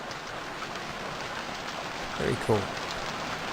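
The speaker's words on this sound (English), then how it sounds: "it's raining." Rain hisses faintly and evenly in the survival video game Stranded Deep, a low steady wash of sound with a person briefly speaking over it near the end.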